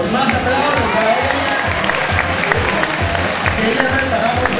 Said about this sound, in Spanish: Pero qué aplauso del público. Aplausos fuertes, ahí está.